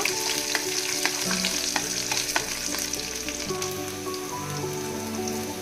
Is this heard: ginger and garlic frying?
yes